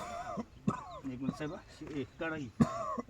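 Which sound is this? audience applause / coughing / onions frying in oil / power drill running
coughing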